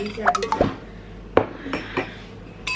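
A metal spoon stirs dalgona coffee by hand, giving a handful of sharp, close clinks against the container at irregular intervals, with softer scraping between them.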